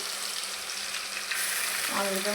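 Onions tipped into hot oil for a fish curry hiss and sizzle steadily up close, the frying growing louder partway through, with a brief clatter of stirring near the end.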